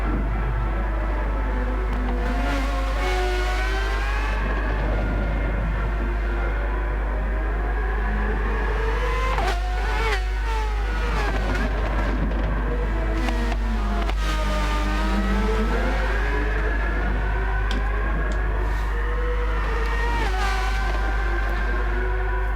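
Formula X race cars lap Interlagos in a racing game. Several engines whine and rev continuously, pitch rising and falling with gear changes, over a steady low drone, with no talk.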